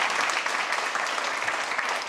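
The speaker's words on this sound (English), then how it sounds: "Round of applause." Audience applause fills the room at a startup and entrepreneurship showcase event, a dense, steady clatter of many hands clapping close by with no voices over it.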